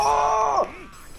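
A character in the video game JoJo's Bizarre Adventure Eyes of Heaven lets out a loud, sustained scream that bends sharply downward at the end and cuts off, with no other sound over it.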